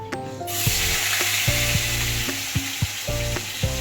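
Potato curry with cumin frying in a pan, a loud steady sizzle that starts abruptly and continues with a utensil scraping and tapping the pan every half second or so, close by with no talk.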